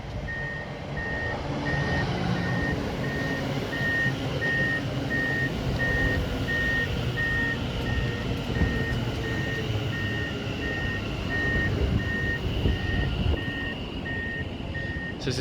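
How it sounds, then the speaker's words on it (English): A steady electronic reversing beep repeats at an even pace for the whole stretch, heard from a distance around a railway station at Bletchley with low background rumble and no voices. "It's a weird beeping sound somewhere,"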